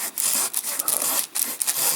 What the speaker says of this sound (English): I just prefer using a saw to get it to that stage